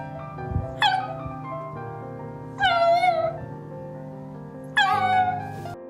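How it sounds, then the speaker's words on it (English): A dog cries and whimpers on reuniting with the cow that raised it, giving three loud, drawn-out, wavering high-pitched wails spaced about two seconds apart over a steady low background hum. "here's their heartwarming reunion when a dog cried happy tears"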